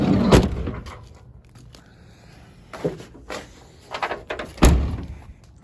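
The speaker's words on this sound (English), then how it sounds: "Close all the doors." Doors on a 2004 Toyota Sienna minivan camper conversion slam shut outdoors, several sharp thuds spaced across the moment, the loudest near the end, with quiet rustling between.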